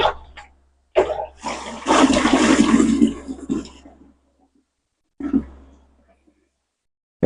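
Water is poured into a phenyl cleaning mixture in a gushing, splashing stream for a few seconds, tapering off, then a short second splash follows after a pause.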